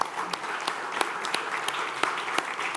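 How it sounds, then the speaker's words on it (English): Applause breaks out at a fintech summit session on open finance in Guatemala, a dense, even wash of clapping from a crowd, with a few sharper claps standing out nearby, steady and fairly loud throughout. "A big applause for that,"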